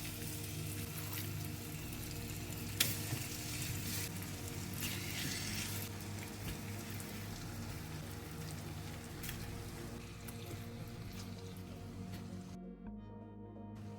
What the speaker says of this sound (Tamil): சிக்கன் பிரஸ்ட்டை ஒன்று ஒன்றா எடுத்து போட்டுடலாம்